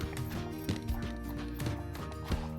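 Hooves of a gaited horse beat out a steady, even rhythm on the ground in a trot, close by and distinct, with a low background of ambient noise and no speech.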